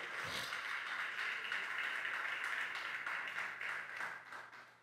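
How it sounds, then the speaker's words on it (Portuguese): A church congregation claps together during a worship service, producing a steady, dense wash of hand claps that fills the whole stretch and fades slightly at the end. "aplauda ao Senhor"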